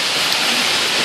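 Heavy rain pours during a July thunderstorm in Queens, New York, a loud, dense, unbroken hiss of falling water close by.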